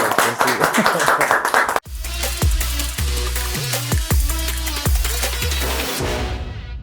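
A studio audience at a comedy show applauds in dense, loud, continuous clapping, with regular low thumps running under it through most of the clip.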